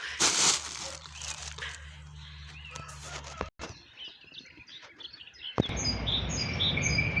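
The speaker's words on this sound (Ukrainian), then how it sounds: "як красиво, пташечки співають" Birds chirp and tweet intermittently outdoors in a garden on a frosty April morning in Skvyra, Kyiv region, Ukraine, some calls nearer than others, with rustling and handling noises in between.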